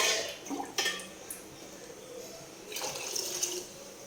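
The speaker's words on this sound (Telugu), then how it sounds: "వాటర్ పోసుకుందాం" Water is poured into a cooking pot on the stove for tomato, raw mango and tamarind rasam, giving a couple of splashy bursts and a steady trickle, with brief clinks of the pot.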